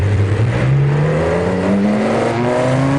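A virtual school bus fitted with ten exhaust pipes revs its engine hard in BeamNG.drive, a loud continuous drone with the pitch climbing steadily throughout, no voices over it.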